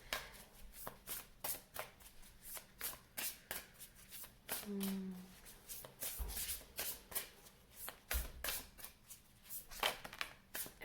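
Cards being shuffled in quick repeated riffles, crisp and close, with a brief low tone partway through and no voices.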